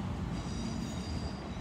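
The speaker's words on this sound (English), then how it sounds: "due to a passing freight train" A freight train rumbles past close by at a railway station, a steady dense roar of wheels on rails with a faint high metallic squeal running through it.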